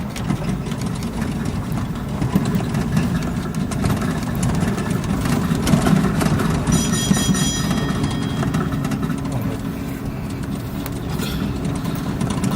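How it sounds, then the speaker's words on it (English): Aircraft engines idling in Microsoft Flight Simulator 2020, a steady loud low droning hum with a constant mechanical tone, unbroken throughout and alone without talk. "All engines idle."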